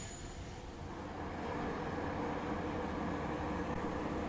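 Inside an elevated light rail train in Kuala Lumpur, a steady rumbling roar of wheels on track fills the carriage, swelling slightly as the train gathers speed, with no voices.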